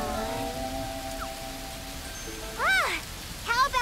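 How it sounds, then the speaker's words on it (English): Typhoon rain falls steadily in an animated scene, a continuous soft hiss that runs the whole time while brief tonal chirps and sweeps rise over it. "Why did the typhoon have to come today?"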